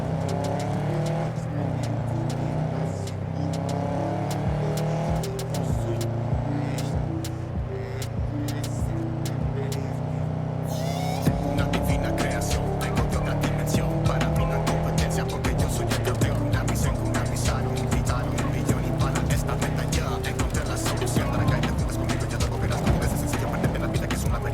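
Car engine in Cyberpunk 2077 hums steadily with shifting pitch as the vehicle drives, layered under game music and a voice, with no break for the full stretch.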